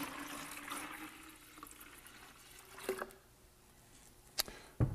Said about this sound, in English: So, to the yeast collected, I'm going to add some of this sanitized water.